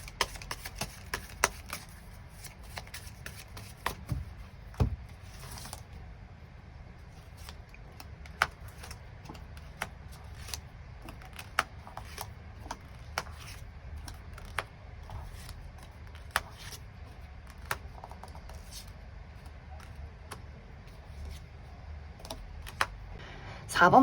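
Tarot cards are shuffled and drawn at close range, producing sparse, soft snaps and riffles scattered over a quiet room, with faint talk underneath.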